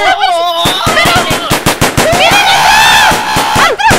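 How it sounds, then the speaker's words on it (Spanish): Rapid gunfire rattles in a video game, with fast bursts of loud, close shots nearly back to back. Excited voices shout over the shooting. "¿Por qué disparan?"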